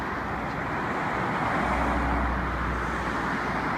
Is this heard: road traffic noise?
yes